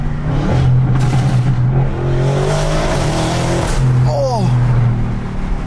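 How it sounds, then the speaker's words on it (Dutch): A tuned 840 hp Audi RS7 revs hard inside the cabin, its engine drone rising and falling with a high turbo whistle over the top, while occupants talk excitedly through the noise. "Hoor die turbos fluiten?"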